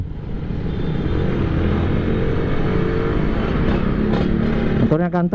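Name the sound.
motorcycle engine rumbling on the road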